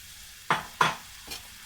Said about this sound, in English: I'm going to let this saute.